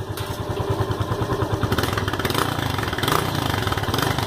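A modified motorcycle exhaust, its muffler altered, idles close by with a steady low throbbing pulse that rises slightly in revs partway through, running alone with no voices.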